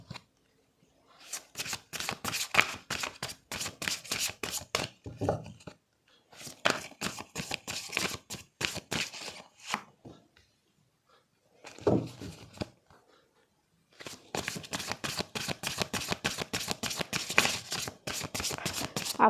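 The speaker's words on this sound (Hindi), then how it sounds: "पहले मैं कार्ड निकाल लेती हूँ," Tarot cards are shuffled close by in three long bursts of rapid papery riffling, separated by brief pauses.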